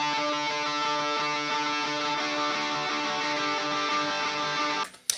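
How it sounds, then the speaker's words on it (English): Soloed lead guitar tracks play sustained, layered notes with a bright, steady tone for about five seconds, then cut off abruptly with a short click at the end. "Now we'll do the same thing over here on the lead guitars"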